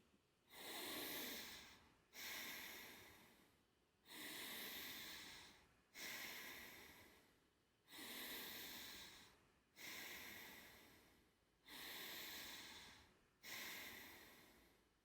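Bellows breath breathwork through the nose at mild intensity and moderate speed: eight forceful, rushing nasal breaths in a steady rhythm about every two seconds, close and clear, each a loud hissing surge that trails off, with no talk.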